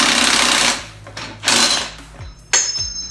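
Impact wrench fitted with a 55mm socket loosening the wheel nut on a Ducati Panigale 1199 superbike, loud close rattling hammering bursts that stop and restart several times, with sharp metallic clanks in between.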